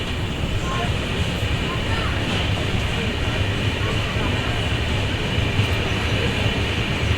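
Steady rumbling roar of the Andhra Pradesh Express running through Rani Kamlapati station, heard from on board as a continuous loud rail drone with wheel clatter, and talk over it.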